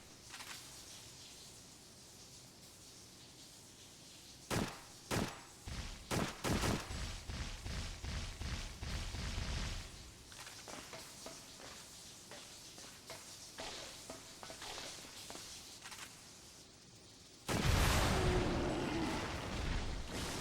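Gunfire in the PS2 game Extermination, bursts of rapid shots and booming impacts that come in clusters, a quieter stretch, then a loud sustained blast near the end.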